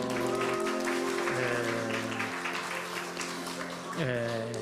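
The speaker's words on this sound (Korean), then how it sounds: "박수 한번 주세요" A church congregation applauds during a birthday celebration at a Sunday service. Scattered clapping runs beneath loud sustained music and voices throughout.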